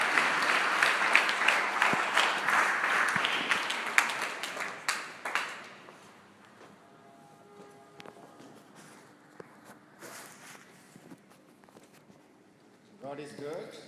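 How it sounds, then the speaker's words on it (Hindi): An audience at a church sermon gathering breaks into loud applause welcoming speakers to the stage, with dense clapping for about five seconds before it thins out into a quiet room with scattered small noises. "आइए जोरदार तालियों के साथ इस मंच पर आप स्वागत करें"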